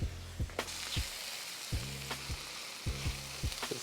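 Butter sizzling in a frying pan with mushrooms, onions and garlic: a steady, quiet hiss of frying broken by regular taps and scrapes of stirring.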